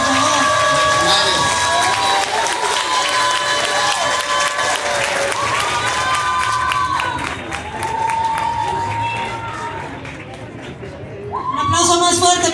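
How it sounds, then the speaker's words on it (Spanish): A crowd at a contest awards ceremony in Xalapa claps and cheers steadily, with music and a voice over a speaker, fading briefly before a fresh burst of applause at the end. "Un aplauso más fuerte, por favor."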